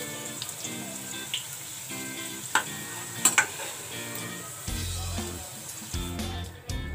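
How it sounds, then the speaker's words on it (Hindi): Carrots fry lightly in a pan for a mixed vegetable sabzi, giving a soft, steady sizzle with occasional stirring clinks, fairly faint under background music. "गाजर को भी हल्का फ्राई कर लेते हैं।"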